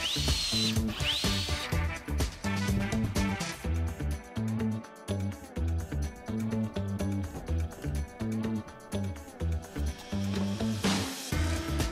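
Power drill driving screws into a walnut trestle base, with several drills fitted with different bits: a steady motor whine that rises and falls in repeated bursts, loud and close throughout with brief pauses between runs.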